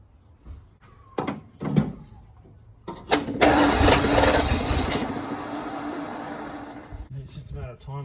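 A Dodge Dart engine being worked on at an all-Chrysler event cranks in short bursts, then catches and keeps running loudly with a steady roar that settles to a lower idle, while people talk nearby.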